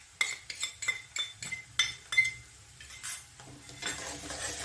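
Garlic-ginger paste being stirred into frying onions in a pan, with a spoon clinking and scraping against the metal in repeated close strokes over a faint sizzle.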